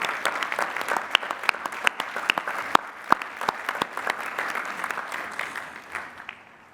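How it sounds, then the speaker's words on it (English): Applause at a university commencement for master's degree recipients, a moderately sized crowd clapping steadily with sharp individual claps standing out, gradually thinning toward the end. "congratulations and applause"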